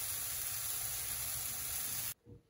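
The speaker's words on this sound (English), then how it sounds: "I'm just going to stir fry them with some oil and some salt and pepper, maybe some garlic salt" Vegan chicken pieces and vegetables stir-fry in oil in a pan, a steady loud sizzling hiss that cuts off abruptly near the end, leaving faint low rustling.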